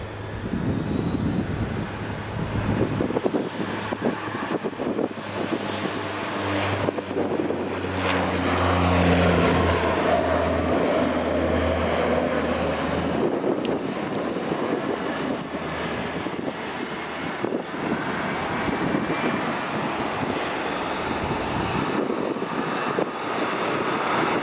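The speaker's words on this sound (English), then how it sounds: "next up we've got a Loganair Saab 340 departing" A Loganair Saab 340 turboprop departs Aberdeen Dyce Airport, its propeller engines droning loudly and steadily with throbbing low tones and a rising whine, wind buffeting the microphone.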